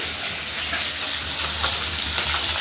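Pabda fish frying in a pan of hot oil, a steady close sizzle with small crackles and pops that continues without a break.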